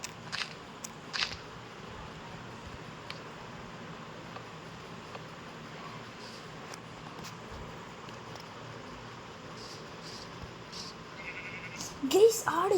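A Minecraft goat lets out short bleats near the start and again at the end, separated by a long stretch of quiet game background.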